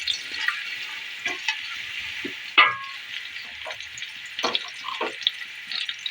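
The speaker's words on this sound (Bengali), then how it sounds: "পেঁয়াজটা হালকা করে ভেজে নেব, একদম লাল করে ভাজবো না" Onion frying lightly in a pan for pilaf, soft sizzling with intermittent stirring scrapes and clinks, close and fairly quiet, no talking.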